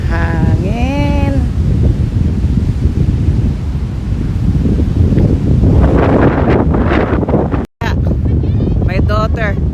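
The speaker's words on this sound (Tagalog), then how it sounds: "Ang hangin." Strong wind roars across the microphone at a beach as a steady, loud rumbling gust. A voice calls out near the start and more talk comes in at the end.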